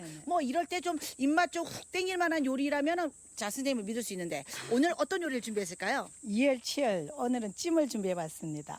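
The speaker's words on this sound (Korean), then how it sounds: "저 매미도 울고" Summer cicadas drone in a steady, high, shrill buzz that runs through the whole stretch, sitting faintly in the background beneath a continuous conversation between two people.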